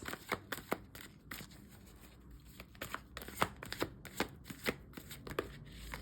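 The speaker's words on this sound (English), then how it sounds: "Let's pull some oracle cards." A deck of oracle cards is shuffled by hand, giving a series of soft, close riffling and slapping bursts in an uneven rhythm against a quiet room.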